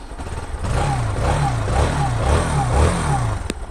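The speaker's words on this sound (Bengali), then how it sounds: "এখন আমি বাইকটা স্টার্ট দেবো" Bajaj Pulsar NS160 motorcycle engine starting and settling into a steady idle, close by, with a rumbling low pulse throughout, a brief click near the end, and no talk over it.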